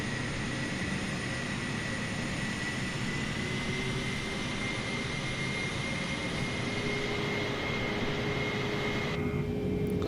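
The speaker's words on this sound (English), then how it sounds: "Taxiing to gate Sierra 11 via taxiway Mike Bravo Bluefoxx 4855 Heavy." Heavy airliner taxiing to its gate in Microsoft Flight Simulator, a steady loud engine hum and whine that holds evenly throughout with no talk, briefly thinning near the end.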